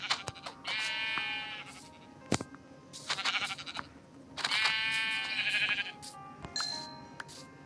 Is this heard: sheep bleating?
yes